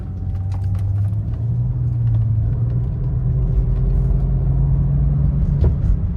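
A BMW E90 sedan driving on the road after a fuel injector replacement, its steady engine rumble and road noise continuous and close throughout, with a smooth, even drone and no talking.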